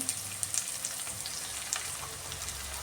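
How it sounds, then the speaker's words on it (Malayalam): Shallots sautéing in oil in a pan for a mackerel fish curry, giving a steady soft sizzle with occasional brief crackles and pops, fairly quiet throughout with no voices. "ഉള്ളി ഇതിലിട്ട് ഒന്ന് വഴറ്റിയെടുക്കാം"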